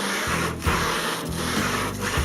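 Hand sanding of a Ford Model A body panel with sandpaper, a loud close-up rasping scrub in steady back-and-forth strokes, each pass ending in a brief pause, with no voices.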